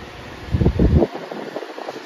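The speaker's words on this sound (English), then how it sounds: "It's a very quiet fan." A Lasko pedestal fan salvaged from the trash runs on medium speed, giving a steady airy whoosh with a few louder gusty swells near the start, close and alone with no talk.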